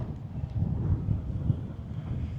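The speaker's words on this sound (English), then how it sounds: "Very windy at the moment, so I hope this is coming over very clearly." Low, rumbling wind buffets the microphone in uneven gusts on the Torquay seafront and marina in Devon, a steady blustery roar with no voices.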